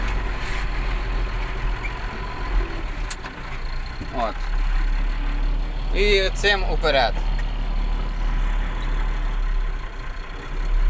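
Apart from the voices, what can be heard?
tractor diesel engine running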